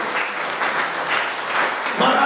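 A church congregation claps for Jesus in a steady, continuous round of applause that swells slightly toward the end, with voices mixed in.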